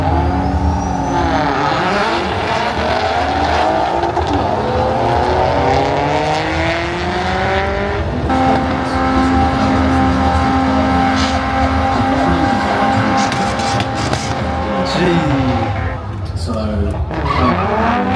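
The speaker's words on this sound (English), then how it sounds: "there's Martin doing a burnout" At a car meet, a car does a burnout with a long, loud, sustained tire squeal and a revving engine, while a crowd chatters and shouts over it.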